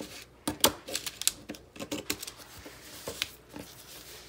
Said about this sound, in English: So we're gonna cut our envelope.